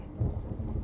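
Heavy rain pours with a low rolling rumble of thunder underneath, a dense continuous storm wash at steady volume with no voices.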